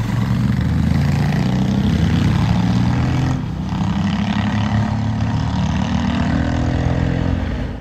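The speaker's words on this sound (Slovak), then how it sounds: "ten výfuk som lepšie počul, on je naozaj taký rapotavý" Honda CRF1100 Africa Twin 1100cc twin-cylinder motorcycle with a loud, raspy exhaust heard close up, droning steadily under load for several seconds before easing off briefly and pulling again, without speech.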